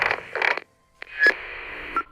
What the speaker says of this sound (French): C'est le bruit de la radiogoniométrie.